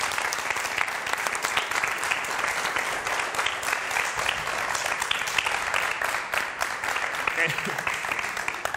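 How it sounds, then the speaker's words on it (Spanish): Studio audience on a Canarian comedy show applauding two comedians, dense sustained clapping throughout with a host's voice heard over it. "un fuerte aplauso para dos personas que son historia viva de la comedia en Canarias, Darío López y Quique Pérez"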